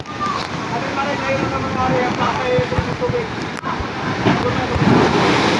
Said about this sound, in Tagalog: Grabe ang hampas ng alo no